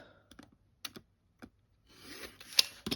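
Rotary cutter or blade trimming excess quilting fabric from a quilt block: a few brief, separate cutting strokes, then a longer scraping slice ending in a sharp click, close by.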